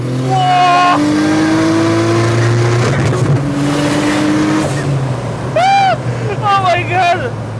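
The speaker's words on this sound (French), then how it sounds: "Donc, tu as ce qu'on appelle un rolling anti-lag." Audi RS4 engine revving hard with rolling anti-lag, rising and falling high-pitched revs and sweeping tonal whines close by, with people talking and exclaiming over it.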